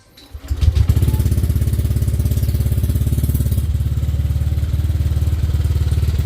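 A Honda Click 125 v3 scooter, built up to 160cc, sits warming up at idle, its engine putting out a loud, even, rapid pulsing drone close by with no talk over it.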